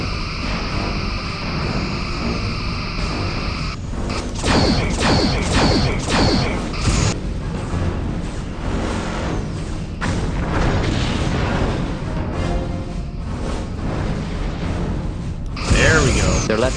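Torpedo explosions in the space combat game Star Trek Bridge Commander, with repeated heavy booms and crashing impacts over a constant mechanical hum and whooshing ship effects.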